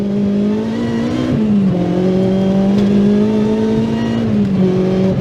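Supercharged K24-powered Honda Integra Type R DC5 pulling hard in second gear, a loud, steady engine drone with a brief pitch dip near the middle before climbing again, close and continuous with no talk.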